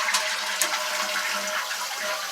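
A toilet with a newly fitted Fluidmaster fill valve flushes with a steady, close rush of draining and refilling water that holds at an even level throughout.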